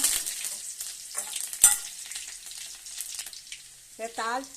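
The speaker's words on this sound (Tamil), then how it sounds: "இப்போ கடுகு போடுறேன். பாருங்க, கடுகு போட்டுக்கிட்டேன், கூடவே உள்ளி போடுறேன், கருவேப்பிலை" Mustard seeds, garlic and curry leaves hitting hot oil, a bright crackling sizzle with sharp pops and stirring, fairly close, ending with a brief voice.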